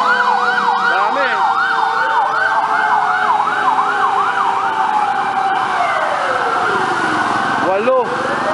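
Fire truck sirens wail continuously in rapid up-and-down sweeps as emergency vehicles pass on a street near a fire, loud and close, joined by a second siren and horn blasts, with traffic noise beneath.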